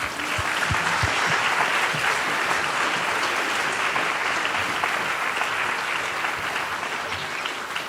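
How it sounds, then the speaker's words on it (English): Audience at a thank-you event gives a big round of applause, a continuous, full-bodied clatter of many people clapping, steady and fairly loud for several seconds, with a few sharper claps standing out near the start. "Can we please give them a big round of applause?"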